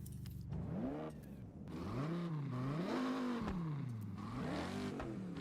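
Car engine in the Forza Horizon racing game revving up and down in rising and falling sweeps, loud and steady with no pauses, heard on its own without talk.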